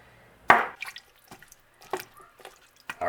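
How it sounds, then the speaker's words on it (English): Water splashes and drips into a pot of vegetables and bones for venison broth, an opening splash followed by scattered small drips and pours, close and fairly quiet. "just enough water to cover up all the vegetables and bones"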